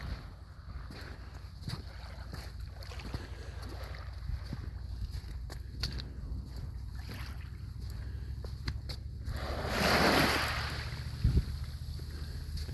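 Waves wash on a beach during a walk, a steady low rumble with heavy wind buffeting the microphone and one louder surge of breaking water near the end.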